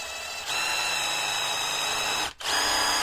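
A power drill bores a 16 mm hole, its motor whining steadily at close range, then briefly stopping and starting again near the end.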